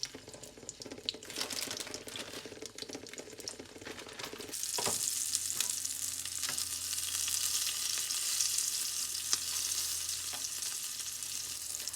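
A sausage link omelette with cheese cooking in a pan, first quieter scraping and handling, then a louder continuous sizzle of hot grease with occasional clicks and taps from the utensil.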